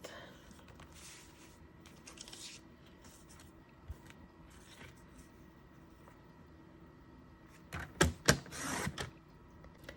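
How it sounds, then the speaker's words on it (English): White cardstock cut on a paper trimmer, with faint scrapes early on and then a quick burst of sharp slicing and sliding clatter near the end over a quiet room. "Now I'm cutting a basic white piece, 4 by 3 1/8."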